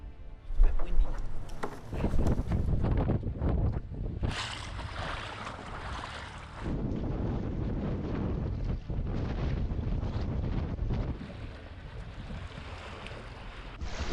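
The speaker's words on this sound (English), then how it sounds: "It's a bit windy." Strong gusting wind on the Donegal coast of Ireland buffets the microphone with a loud roar that swells and eases, and a voice is faintly heard beneath it.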